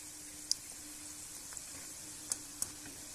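Soybean chunk pakoras fry slowly in oil over low heat, a faint, even sizzle with a few small pops and crackles scattered through, quiet and with no talk.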